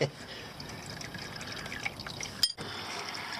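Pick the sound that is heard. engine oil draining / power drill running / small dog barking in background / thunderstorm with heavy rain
engine oil draining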